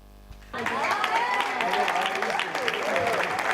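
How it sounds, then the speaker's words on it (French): Applause from an audience after a moving speech at a school event, a sudden burst of steady clapping starting about half a second in and continuing evenly to the end. "Est-ce qu'on peut encore applaudir ce discours poignant du numéro 1 de Canadian Bruce?"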